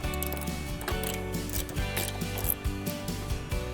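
A bolt is removed from an EGO Cobra Fortis mower with a ratcheting tool, producing rapid mechanical clicking and whirring close up with a steady hum beneath.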